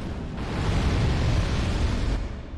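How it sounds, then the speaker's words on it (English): A giant explosion in the Dark Souls 2 video game, a loud broad roaring blast that swells and rumbles for a couple of seconds before easing off, with no speech over it. "Giant explosion."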